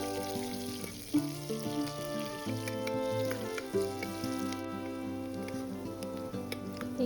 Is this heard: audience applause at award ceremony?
no